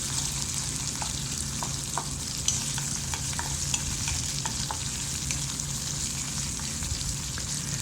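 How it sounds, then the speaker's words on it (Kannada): Chopped onion, green chili and curry leaves fry in oil for avalakki bath, giving a constant, even sizzle broken by soft crackles and light stirring taps, heard alone. "ಸೊ ಇವಾಗ ಈರುಳ್ಳಿ, ಮೆಣಸಿನ್ಕಾಯಿ ಮತ್ತು ಕರಿಬೇವೆಲ್ಲ ಹಾಕಿದ್ಮೇಲೆ ಈರುಳ್ಳಿ ಸ್ವಲ್ಪ ಫ್ರೈ ಆಗಬೇಕು"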